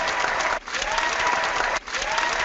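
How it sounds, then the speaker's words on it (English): A room of people applauds a man named Mark, dense clapping at close range with two brief dips before it swells again, a faint voice mixed underneath. "give Mark a round of applause"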